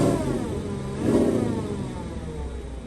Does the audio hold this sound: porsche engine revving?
yes